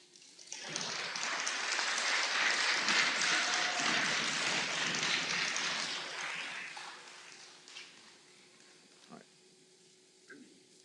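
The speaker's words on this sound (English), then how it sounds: "If we could please have a round of applause." A room full of people at a spelling bee claps steadily for several seconds, the applause swelling and then tapering off into scattered last claps and quiet.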